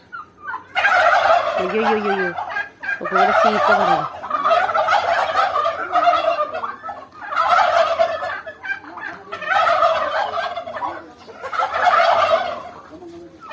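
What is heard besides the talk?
turkeys gobbling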